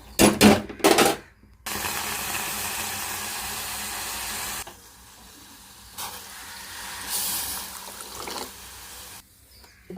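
Toor dal is rinsed and water is poured into a cooking pot: a few short, sharp splashing bursts come first, followed by a longer steady rush of running water and then quieter, intermittent pouring.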